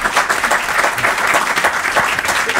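A French television studio audience bursts into dense, sustained applause, loud and close, with the clapping steady throughout.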